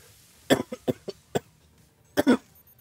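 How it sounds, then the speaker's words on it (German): A sick man coughs near the microphone during a gaming session. A quick burst of four short coughs is followed by a single cough, then a final double cough, each sharp and dry against a quiet background. "kurz mal husten"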